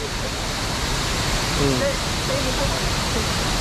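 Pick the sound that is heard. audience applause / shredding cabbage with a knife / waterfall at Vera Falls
waterfall at Vera Falls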